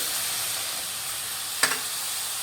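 Milk poured into hot fried rava semolina gives a steady, close sizzling hiss with one brief sharp splash-like burst partway through.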